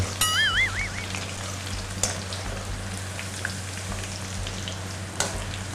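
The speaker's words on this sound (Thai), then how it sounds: "เจียวให้กรอบหอมหน่อย" Sliced shallots fry in hot oil until crispy for a Thai dried fish salad, giving a steady, close crackling sizzle with scattered pops under a constant low hum, with no talking.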